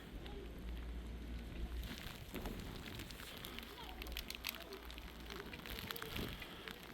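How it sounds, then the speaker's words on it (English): Steady heavy rain pours down in the mountains near Whistler and Squamish, British Columbia, a dense hiss with scattered patters and drips close by, continuing without a break. "it's raining pretty heavily up here"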